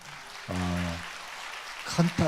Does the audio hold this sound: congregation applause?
yes